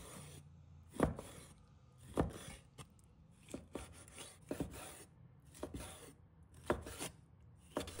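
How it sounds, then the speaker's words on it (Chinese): A knife chops pig heart into small pieces on a cutting board with quiet, spaced strikes about once a second, each a short thud with a faint rasp, in an otherwise calm kitchen. "一半我们来切小块"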